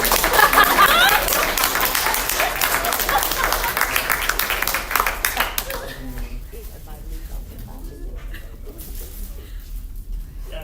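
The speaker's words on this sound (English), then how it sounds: "It's a clap for myself." An audience claps at a military promotion ceremony, loud, dense, fast clapping that thins out after about five seconds into a few lighter, scattered claps.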